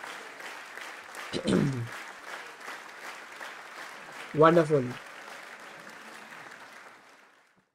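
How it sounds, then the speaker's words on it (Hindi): Audience applause during a stock-market swing-trading class, clapping steadily while someone talks over it, then fading away at the end. "आप सभी के लिए ज़ोरदार तालियां"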